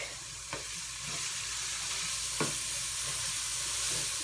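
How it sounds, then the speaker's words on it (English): Onions sizzle steadily in a pan for Spanish rice, with a few soft scrapes and knocks as they are stirred, a constant close frying hiss throughout. "So, finished putting these onions in here. Stir them up real quick."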